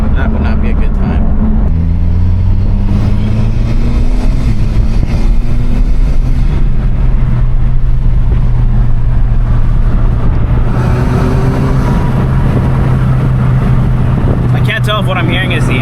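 An Alfa Romeo Giulia fitted with a Mishimoto charge pipe runs loud and close, its engine note rising and falling through acceleration, with someone talking over it.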